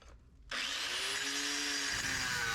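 A grinding wheel with a notch in it bites into a metal plate. After a brief quiet start, a loud, continuous, high-pitched grinding whine follows, close up and steady.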